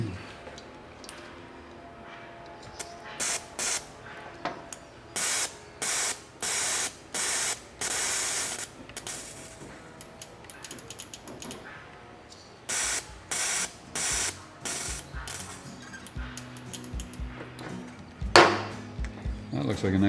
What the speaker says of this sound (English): just run cleaning fluid through all the injectors at high speed